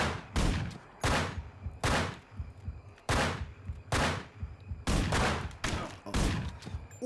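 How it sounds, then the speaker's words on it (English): Sniper rifle gunfire in a Manhunt video game firefight: about eight loud, sharp reports spaced roughly a second apart, each with a short echoing tail, with no talking. "Sniper fight."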